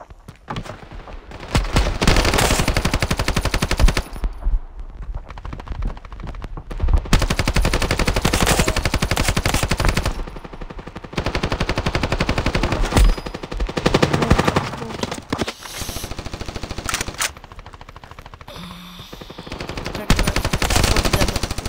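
Sustained automatic gunfire from the mobile shooter game Standoff 2, loud and continuous in long bursts with brief pauses between volleys, no talk over it.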